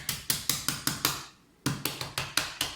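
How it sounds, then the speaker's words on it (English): A hammer taps a part on a laser-cut layered Christmas box into position in a steady rapid series of sharp strikes, pauses briefly, then resumes with another run of even, ringing taps. "I'm gonna tap it with my hammer until it goes down into position here"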